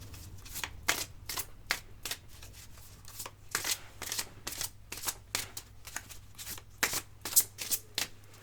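Love oracle cards are shuffled by hand in a quiet room, a rapid series of crisp riffling flicks and soft slaps repeating in irregular bursts, close and clear with a faint steady hum beneath.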